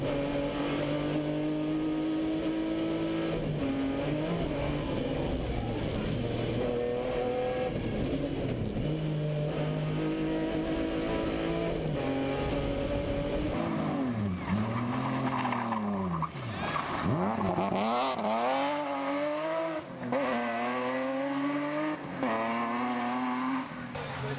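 Rally car driving fast over a crest and shifting up into sixth gear, loud revving engine with sweeping pitch changes, gear shifts and tire noise, close and continuous throughout.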